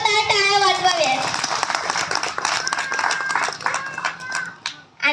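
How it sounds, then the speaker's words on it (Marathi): An audience claps for a women's group at a joint birth-anniversary celebration for Dr. Babasaheb Ambedkar and other great leaders. A voice speaks first, then a rush of scattered clapping builds and continues before fading near the end. "सर्वांना माझी विनंती आहे की एकदा महिला मंडळासाठी जोरदार टाळ्या वाजवाव्यात"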